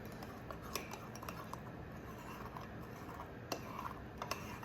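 Spoon stirring mug cake batter of flour and cocoa powder inside a mug, soft scraping with scattered light clinks against the sides at an uneven pace, close and fairly quiet.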